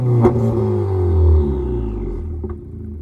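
A 2018-2021 Honda Accord Sport with a loud aftermarket exhaust revs up and falls back, its engine note rising and sliding down in a close, steady roar over about three seconds, with no talking.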